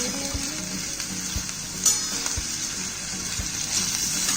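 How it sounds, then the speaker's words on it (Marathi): Onion sautés in a pan for a Spanish omelette with potatoes, a steady close sizzle running throughout and broken by soft, regular thumps of stirring. "कांदा थोडासा परतून घ्यायचा आहे."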